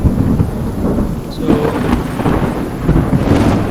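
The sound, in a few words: thunderstorm ambience in Unreal Engine 5 game audio demo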